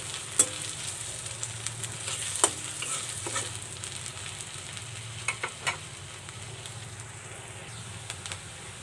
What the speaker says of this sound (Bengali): পেঁয়াজ কুচি দিয়ে পেঁয়াজটাকে হালকা বাদামি কালার করে ভেজে নেব।